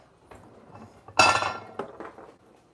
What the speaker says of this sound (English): we're just draining these potatoes